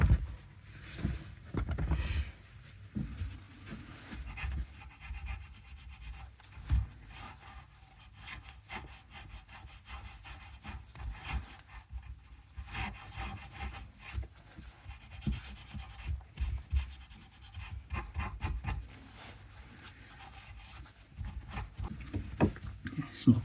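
A Land Rover Series 2a clutch part is scrubbed and scraped clean in a workshop, giving continuous uneven rasping and rubbing strokes with small knocks, close and fairly quiet.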